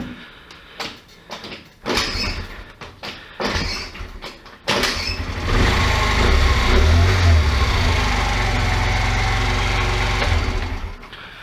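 A Kymco Agility 50cc four-stroke scooter fitted with a Chinese CDI, heard first as a few clunks and bumps, then the engine starts and runs steadily at close range with a loud buzzing idle.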